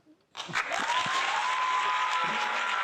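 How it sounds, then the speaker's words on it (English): Applause on a virtual pub quiz stream during a fancy dress special, a steady broadband patter that starts abruptly and holds evenly throughout, with a faint voice and a tonal whine threaded underneath. "Let's get another round of applause for that"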